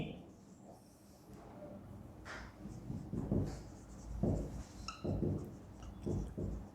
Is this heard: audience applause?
no